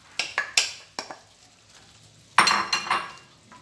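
Onion goes into a pan of simmering beef juices for lomo saltado, heard as a handful of sharp clinks and scrapes of utensils against the pan, then a louder burst of sizzling and clatter.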